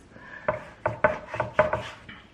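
A knife slices through two pounds of beef against the grain for Filipino bistek, with about six distinct close cuts in an uneven rhythm, each knocking on a cutting board.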